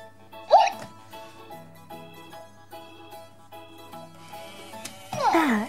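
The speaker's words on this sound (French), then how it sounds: "Oh, mon petit Hatchimol, tu as le hoquet." A Hatchimals toy character gives two sharp hiccups, one near the start and one near the end, over a soft, steady musical background.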